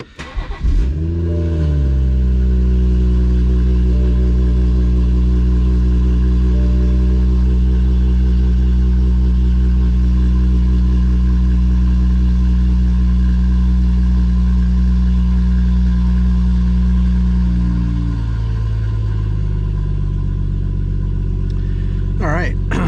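A BMW B58 engine cranks and fires up, then settles into a loud, steady idle with deep exhaust rumble close by, easing slightly lower toward the end before a brief blip.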